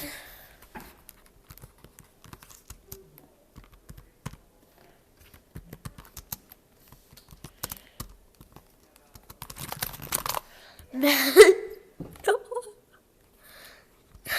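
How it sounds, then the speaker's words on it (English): A computer keyboard is typed on in scattered, quiet clicks while text is entered for a meme, followed near the end by a louder burst of voice-like noise. "Now we can type whatever you want."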